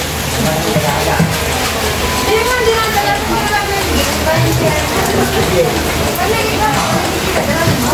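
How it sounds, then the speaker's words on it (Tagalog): Steady, dense rain hissing and pattering without a break, with faint voices murmuring underneath. "Umulan na naman, no?"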